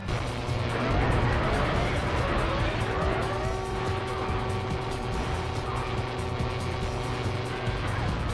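A car engine revs up and accelerates, a sustained loud roar with rising engine tones and possible tire squeal, steady and close throughout.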